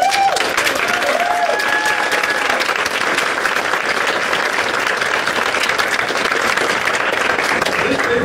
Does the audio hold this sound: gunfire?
no